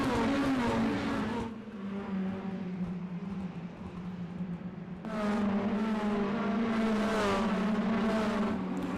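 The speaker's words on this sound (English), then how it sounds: "Shane Sweeney way up the track there going into turn number 1" Stock race cars roar steadily around an oval track, with a sustained engine drone that rises again as another pack of cars sweeps past. The sound is moderately loud and continuous, with no talking.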